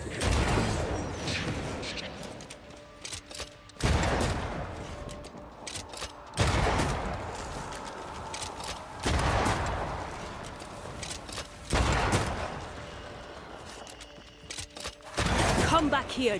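Gunshots in the video game Banishers: Ghosts of New Eden ring out as four or five loud, separated blasts with a few seconds between them. Each is followed by a rumbling decay over a backdrop of game ambience.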